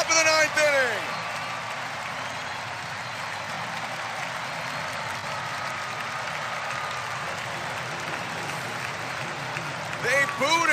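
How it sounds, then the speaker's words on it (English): Huge stadium crowd roars and cheers without letup for pitcher Jeff Hoffman after a ninth-inning strikeout in an ALCS Game 6 between the Blue Jays and Seattle, a dense sustained wall of cheering and applause from start to finish. "They're roaring for Jeff Hoffman right now"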